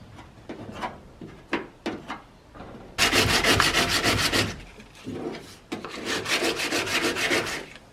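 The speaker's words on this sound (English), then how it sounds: "I've been sanding it down with 120 grit just to get it back to this" Body filler on a welded car panel being sanded by hand with 120 grit sandpaper: short separate rubbing strokes at first, then long, loud, continuous back-and-forth scraping close up, with no talking.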